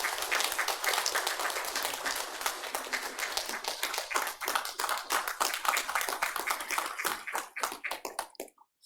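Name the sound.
church congregation applauding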